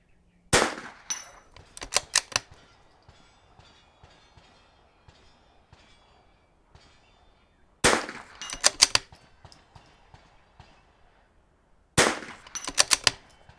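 Sharp .22 rifle shots on an NRL22 range course, fired in three quick clusters of several rapid cracks each with quiet pauses between, close and loud.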